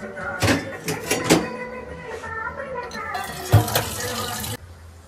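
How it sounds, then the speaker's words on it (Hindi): Water is poured from a container into dry potted plants at home, making a rushing splash of about a second after a stretch of quieter sounds, with a voice faintly present earlier. "और अब मैं थोड़ा पानी दे देती हूँ, क्योंकि पानी दिया ही नहीं गमलों को"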